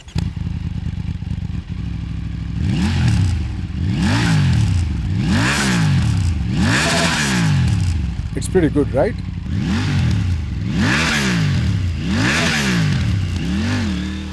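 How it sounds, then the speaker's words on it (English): A Triumph Tiger 900 Rally's triple-cylinder engine revs repeatedly in rising and falling bursts, loud and close, its throaty exhaust note climbing and dropping; a brief spoken remark interrupts midway. "But let's first listen to the exhaust note."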